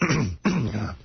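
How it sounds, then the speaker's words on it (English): A man clears his throat with a rough, voiced rumble, a brief pause, then a second drawn-out throaty grunt, close and loud with no other sounds. "I can't clear my throat."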